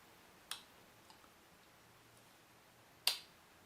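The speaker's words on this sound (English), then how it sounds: "slide the stem through the hole in the watch case and into the hole of the mechanism" Two crisp, sharp clicks a few seconds apart, with a couple of fainter ticks between them, as a watch stem slides into the movement of a Fossil Arkitekt FS 2710 watch, close up against a quiet background.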